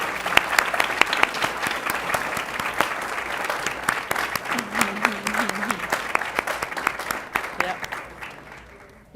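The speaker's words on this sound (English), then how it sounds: "Let's give them a round of applause, please." A school board meeting audience applauds its Clemens Academic All-State students, a loud spread of clapping with a few sharp individual claps and faint voices mixed in, fading away toward the end.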